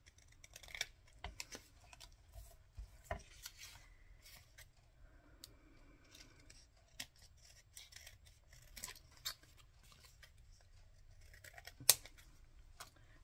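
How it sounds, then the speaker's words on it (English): Scissors snip paper scraps on a desk, soft close-up cuts coming in irregular single snips and short runs, faint and quiet with light rustling between cuts. "So I'm going to just trim these off"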